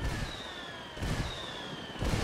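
Mortar indirect fire lands in the video game Ghost Recon Wildlands: a string of dull, distant booms arriving about once a second over a constant rumble of battle.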